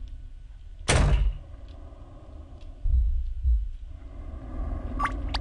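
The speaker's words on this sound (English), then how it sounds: "Close the doors." Doors close in the horror video game Ao Oni: one sharp loud slam, followed a couple of seconds later by a softer low thud, over a quiet dark ambient background with faint electronic tones near the end.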